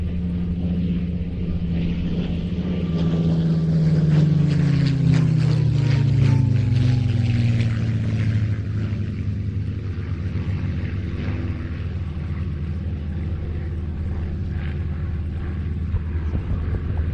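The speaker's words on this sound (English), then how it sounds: "it is a license built Messerschmitt 109, but as you'll find in a moment, it sounds exactly like the Spitfire" Close, loud airshow pass of a license-built Messerschmitt 109 with a Rolls-Royce Merlin engine, its deep engine roar holding strongly and then falling in pitch as the fighter goes by.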